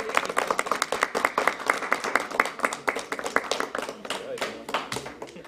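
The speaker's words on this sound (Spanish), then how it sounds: "un fuerte aplauso por el comité" Audience applause for an event committee at a culinary and performing arts gathering in Manassas, Virginia: many hands clapping in a steady, moderately loud patter that keeps going for several seconds, with voices mixed in underneath.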